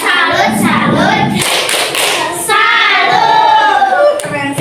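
A class of children performs a rhythmic clapping salute, with bursts of loud group hand claps alternating with chanted voices, all close and energetic.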